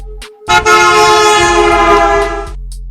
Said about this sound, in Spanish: aparece un vehículo tocando el claxon